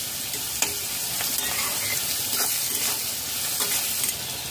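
Onions are stir-fried in oil over a high flame, giving a constant hiss of frying with occasional quiet scrapes of a spoon against the pan. The sound is close and moderately soft, with no speech.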